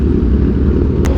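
Kawasaki Ninja H2 motorcycle engine running at low RPM with a loud, deep, steady rumble close by, ending in a brief sharp click.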